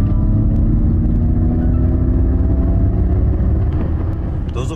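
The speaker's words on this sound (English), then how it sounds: "the Mach-E has a simulated spaceship-like sound, and then that propulsion sound adds a virtual vroom to the proceedings" The Ford Mustang Mach-E electric car gives off its simulated spaceship-like propulsion sound, a steady, loud, low hum with a layered tonal drone that holds evenly throughout.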